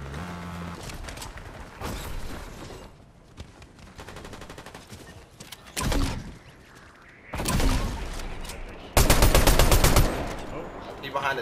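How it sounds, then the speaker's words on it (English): Gunfire in the video game Fortnite: repeated bursts of automatic fire and single shots crack out in clusters, growing louder and closer toward the end, with faint game noises between volleys. "I'm going towards where I hear gunshots."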